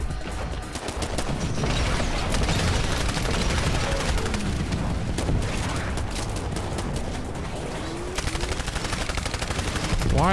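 Rapid automatic gunfire in the PC video game Titanfall, dense bursts of shots and booms nearly continuous for ten seconds, with a sharper run of evenly spaced shots near the end.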